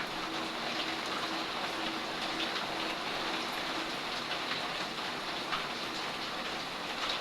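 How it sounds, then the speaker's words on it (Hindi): Steady heavy rain pours during a stormy day, a dense continuous hiss of drops on surfaces that holds constant throughout, with no voices. "वेट करते हैं जी बारिश रुकने का।"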